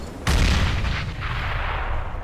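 A grenade blast in a Counter-Strike match on the Overpass map, a sudden loud boom with a heavy low rumble that lingers and rolls on for about two seconds, with no voices over it.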